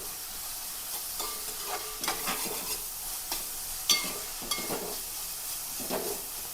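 Crushed garlic, ginger and a small tomato sizzle and spit in hot oil for a curry tempering, with a steady close fry and scattered sharp crackles and pops.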